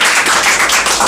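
A class claps for students at a spoken English lesson, a short burst of dense, continuous hand clapping filling the whole moment at close range.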